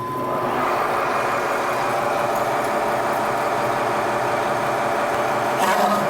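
Drill running at 315 RPM on low speed, a steady loud mechanical hum and rumble held at an even level throughout, close by with no talk.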